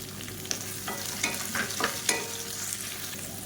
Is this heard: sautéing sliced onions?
yes